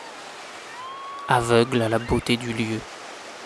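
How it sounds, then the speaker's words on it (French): A waterfall gives a steady, even rushing hiss throughout, with a person speaking over it partway through. "je me suis rendu à cette cascade"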